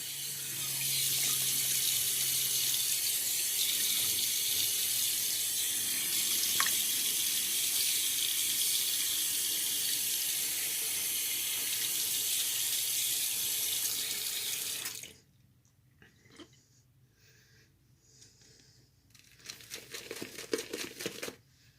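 Water runs steadily from a tap for about fifteen seconds, loud and close, wetting a shaving brush at a sink, then cuts off, leaving faint handling clicks and a brief burst of brush or lather noise.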